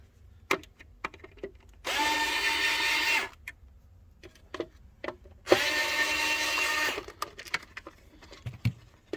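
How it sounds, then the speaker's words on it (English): A power driver takes two screws out of an iRobot Braava Jet M6 lid and hinge, with two separate buzzing runs of about one and a half seconds each between small clicks and handling taps, close by and without talk. "We're going to take these 2 screws out."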